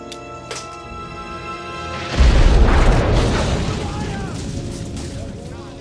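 A grenade hidden under a toilet detonates in a sudden deep boom, the blast rolling out and decaying over a few seconds after a quieter tonal lead-in.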